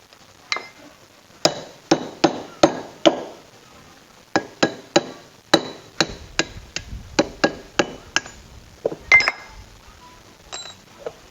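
A nail is hammered against a differential pin to drive it out of a Mitsubishi L300 diesel rear axle: sharp metallic taps, close and clear, in quick runs of about twenty strikes with brief pauses.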